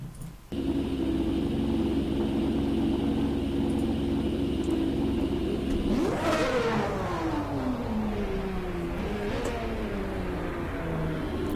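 A Ferrari Formula One car engine in the Assetto Corsa racing game holds a steady high idle-like drone, then sharply revs up and winds down through falling pitches, loud and close with no talk.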